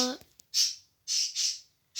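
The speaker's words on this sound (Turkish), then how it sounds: "Ay dışarıdan da kuş sesleri geliyor ya." Birds chirping and squawking outdoors, heard faintly through a window indoors, in four short high-pitched bursts with gaps between them, after a brief snatch of a voice at the start.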